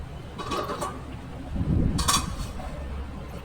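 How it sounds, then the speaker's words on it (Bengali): A lid goes onto a pan of egg curry on the stove, with a light metallic rattle, then a brighter clink as it settles, over a low steady cooking rumble. "তো এটা আবার একটু ঢাকা দিয়ে দিচ্ছি"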